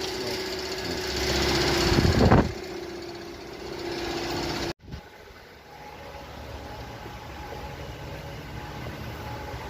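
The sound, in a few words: low-power Cummins diesel engine running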